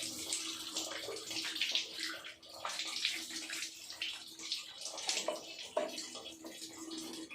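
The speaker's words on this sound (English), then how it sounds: "so we are giving it a nice wash with cold water" Cold tap water runs steadily over pork feet being washed, a continuous splashing hiss with fluctuating gurgles as the feet are turned under the stream.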